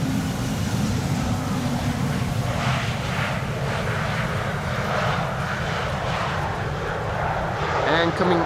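EasyJet Airbus A319 airliner arriving from Milan passes Amsterdam Schiphol in stormy, windy weather, a loud continuous engine roar mixed with heavy wind rumble and rising whine, with a person talking over it.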